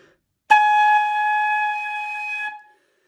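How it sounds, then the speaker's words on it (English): A single sustained high whistle-like tone from a flute mouthpiece blown across on its own, held steadily for about two seconds before fading out, clear and close with no other sound. "you blow across the mouthpiece to make the sound."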